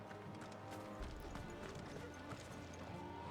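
Horse hooves clip-clop in Final Fantasy 16, a quick run of light hoof steps at moderate distance over a faint low background hum, with a brief whinny-like note.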